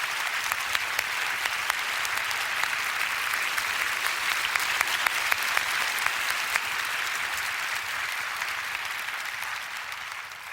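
A seated audience at a prayer meeting applauds steadily, dense even clapping at a moderate distance that holds for about ten seconds before tapering slightly.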